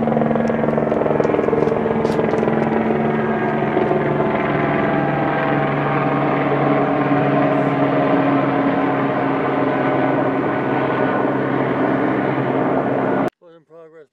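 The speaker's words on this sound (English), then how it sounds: "Here he comes, right overhead." A helicopter passes overhead, its steady rotor thrum and engine whine loud and continuous for many seconds before cutting off abruptly, followed by a brief murmur of voices.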